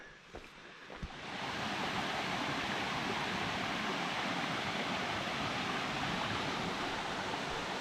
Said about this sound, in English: We can hear the water, so we're close to the falls.